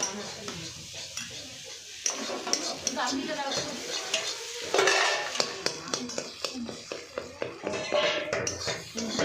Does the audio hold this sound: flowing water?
no